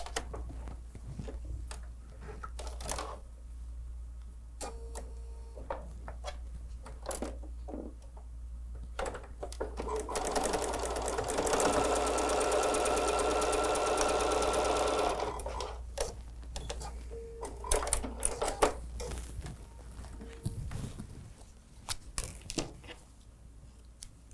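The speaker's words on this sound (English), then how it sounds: "Let's sew that 1/4 inch." A sewing machine runs a quarter-inch patchwork quilt seam, starting with a few quiet clicks before a steady close whir of stitching that runs for several seconds, then stops with soft handling noises.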